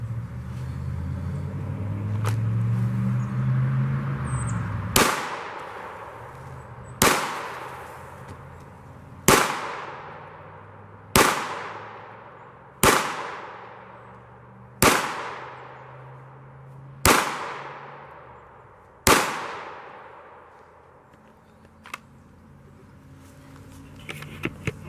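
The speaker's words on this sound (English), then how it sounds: "I'm going to shoot this Glock and shoot using that old-fashioned" Nine sharp pistol shots from a Glock fired at 10 yards, spaced about two seconds apart, each loud crack followed by a decaying echo over steady outdoor background noise.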